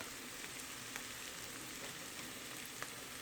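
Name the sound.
red pepper, garlic and onions sautéing in a pan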